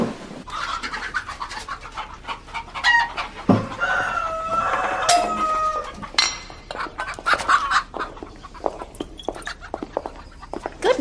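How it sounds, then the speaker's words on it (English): Hens and cockerels cluck and crow continuously, a mix of overlapping clucks and drawn-out crows at close to moderate distance, with no voices over them. "Can't say I care for hens. Mostly cockerels, they be."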